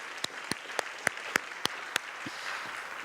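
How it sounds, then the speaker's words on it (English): Audience at a community forum clapping, with several distinct sharp claps standing out in a loose rhythm over softer scattered applause, fairly close and moderate in level. "That is something to applaud."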